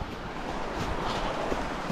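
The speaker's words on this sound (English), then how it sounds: "Hopefully you can hear over the roar of the river of the creek." A creek river roars nearby in a steady broadband rush of water, with some gusty bumps, and no talk over it.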